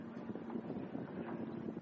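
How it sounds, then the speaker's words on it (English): Low, blustery wind rumbles against the microphone, steady and unbroken, with no voices, outdoors at Sanctuary Cove. "A little bit windy here."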